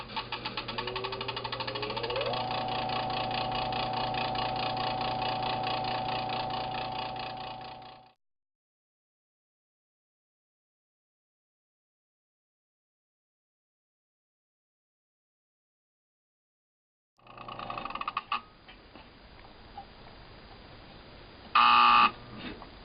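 A pickup winding machine winds a 1954 Fender Stratocaster guitar pickup with a steady, buzzing motor hum for several seconds, then stops. After a long silence, brief clicks and handling noises follow, along with a short, sharp tone.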